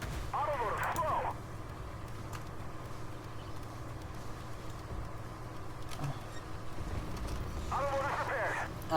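Weapon fire from an NM142 missile vehicle in the tank game Armored Warfare: heavy booming shots and rumbling engine noise throughout, with bursts of crackling impacts, under a voice talking.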